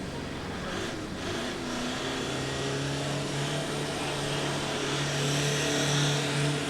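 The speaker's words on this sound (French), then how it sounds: "son superbe tracteur appelé Blue Horse" The engine of the Blue Horse tractor drones loudly and steadily during a tractor pulling run, a continuous near roar with a rising tone, no voices.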